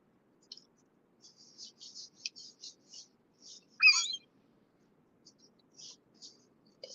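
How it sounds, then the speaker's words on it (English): Seagulls calling in the morning: scattered short, faint, high chirping calls in a quiet setting, with one louder, sharper squawk partway through and no talk. "We're having morning seagull talks."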